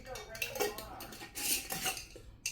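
A spoon mixing pesto into a raw burger mixture in a bowl, giving a run of quiet clinks and scrapes against the dish with soft squelchy movement between them.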